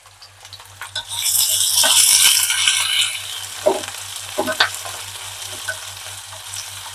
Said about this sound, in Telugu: కొంచెం తాలింపు చక్కగా వేగాలి